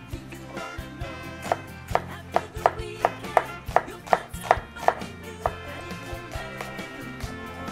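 Onions being chopped on a cutting board for pennette primavera, a steady run of about a dozen crisp knife strikes at a regular rhythm, close and fairly loud over low room noise, with no talking.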